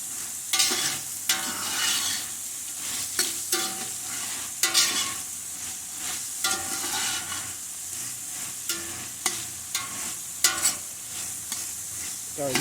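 Andouille sausage fries in a pot with a constant sizzle, broken by frequent sharp clanks and scrapes as a utensil stirs it.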